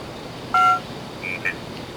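Short touch-tone beeps from an Ovilus device set off by touch during a session at an old industrial furnace site: two quick electronic tones, a clear one then a fainter one, over room hiss.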